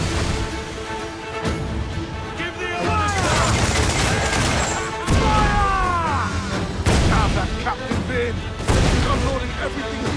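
Ship cannons firing during a naval battle against a frigate in the video game Assassin's Creed IV Black Flag, loud repeated booming blasts with crashing impacts, mixed with shouted voices and a dense game soundtrack.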